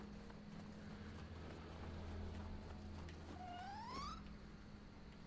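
A cat in the video game Nioh 2 gives a single short rising meow near the end, faint over a low steady game hum and soft thudding ambience.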